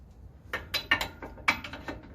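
A socket ratchet clicks in a steady, close series of pawl ticks while tightening a sway bar link bolt on a 2005 Ram 1500, each stroke giving a short burst of clicks.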